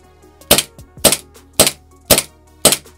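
An airsoft M9 pistol running on HPA air through a CQB Russian valve fires five sharp, loud cracks at an even, quick pace, each shot standing out against near silence.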